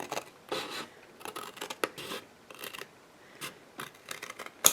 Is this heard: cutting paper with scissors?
yes